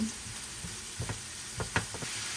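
Pork chops frying in a pan, a soft steady sizzle under a few brief clinks and scrapes of stirring, close and quiet with no talk.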